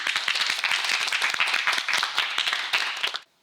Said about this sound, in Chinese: 掌声一下